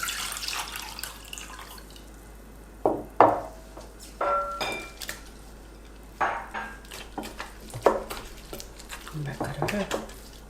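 Shrimp being mixed by hand in a wet batter coating of starch and flour, irregular squelchy, splashy handling sounds with small clatters of a bowl, spaced out in bursts.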